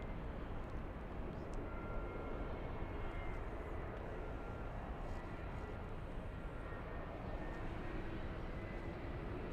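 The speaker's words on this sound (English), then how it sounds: "We have a little E175 on final approach." An Embraer E175 regional jet on final approach at LAX gives a steady, broadband engine roar that holds at an even level throughout, heard from some distance with no break or pause.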